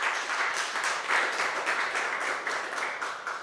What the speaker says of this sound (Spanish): Un aplauso para el maestro Conrado Romo, por favor.